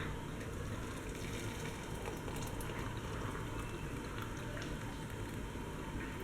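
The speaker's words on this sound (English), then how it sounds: "Hot boiling water." Hot boiling water is poured for tea, making a steady, even rushing hiss that continues unbroken for several seconds with no talk.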